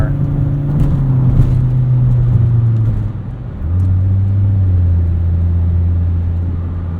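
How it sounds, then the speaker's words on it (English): A Volvo 850 R sedan with an IPD exhaust drives along, its engine droning in a low, steady tone that climbs, dips briefly as the revs drop, then settles into a deep sustained hum under road rumble. "this IPD exhaust is a little bit drony, but not as bad as it is on a wagon"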